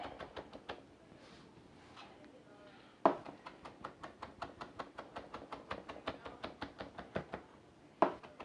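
A knife chopping fresh mint leaves on a cutting board, a fast steady run of crisp close taps with a couple of short pauses and a few louder knocks.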